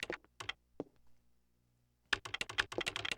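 Typing on a computer keyboard, bursts of crisp key clicks with a quiet pause in the middle, then a faster run of close, distinct taps.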